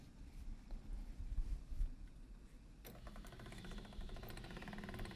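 A pasta machine rolls sheets of dough with a steady mechanical rumble and whir, quiet and continuous, with a faster rattling texture in the second half.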